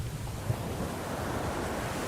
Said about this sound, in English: a big wave hits the ship